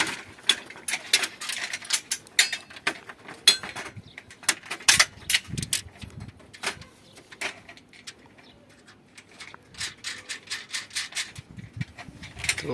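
Nuts and bolts are tightened on a home solar panel mount with a tool that ratchets in quick bursts of clicks. The clicks come in irregular clusters, with short pauses between them, over about thirteen seconds.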